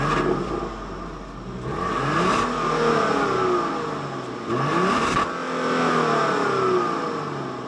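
A 2025 Genesis GV80's 3.5-liter twin-turbo V6 engine revs up twice, each surge rising in pitch then settling, with a steady mechanical whir between the pulls.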